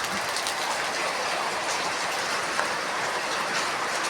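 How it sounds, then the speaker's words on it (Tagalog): Heavy morning rain pours in a loud, dense, unbroken roar of close drops that stays even from start to finish. "Oh, lakas ng ulan."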